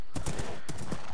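Hooves clip-clop through a short burst of a horse in Minecraft, a blocky survival video game, with a possible faint whinny mixed into dense, steady game sound, no talk.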